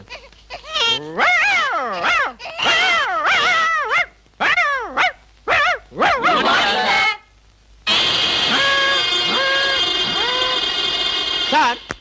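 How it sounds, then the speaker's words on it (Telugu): Several dogs bark, yelp and whimper in quick, rising and falling bursts, loud and close, then a sustained, steady bout of howling and whining fills the last few seconds. "కుక్కలు ఆరుస్తున్నారండి"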